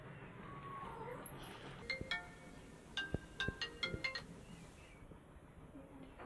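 A phone ringtone sounds as a series of short, bright chiming bursts in a quiet indoor setting, faint overall, with soft background noise between the rings.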